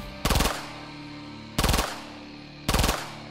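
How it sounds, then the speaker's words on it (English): A Glock 18 machine pistol fires three short full-auto bursts, each a rapid loud rattle of several shots, separated by brief pauses, close and with no talk. "Push the switch down like that, and it's a machine pistol."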